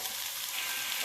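A brief, quiet stretch of garlic sizzling in a hot pan for garlic chicken, an even hiss with faint crackling and no voices.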